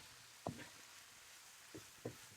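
Ground turkey browning in a pan, cooked with onions, peppers and garlic: a quiet, steady sizzle, broken by three brief spoon knocks and scrapes as the meat is stirred, close by and with no talking.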